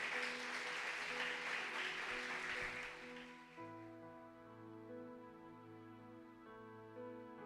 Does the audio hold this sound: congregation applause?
yes